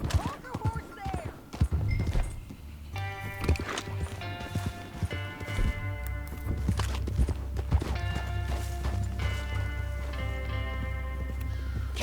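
Horse hooves clip-clopping in the video game Red Dead Redemption 2, steady footfalls under game music and character dialogue, with a neigh near the start.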